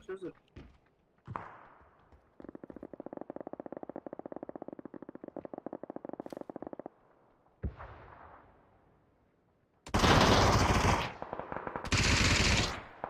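Gunfire from the video game PUBG, with long automatic bursts of rapid shots, a short pause, then louder close-range bursts, and a few single shots and thuds between them.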